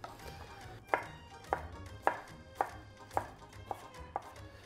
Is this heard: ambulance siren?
no